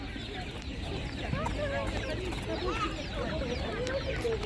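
Jersey Giant laying hens at a market flea row cluck and chatter continuously, several birds close by, with people talking in the background.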